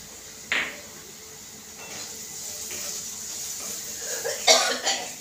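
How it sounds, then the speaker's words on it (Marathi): Sharp coughs and throat clearing from chili fumes while frying onions for a potato dish, a few separate bursts near the start and end over the soft hiss of cooking in oil. "मिरचीचा ठसका"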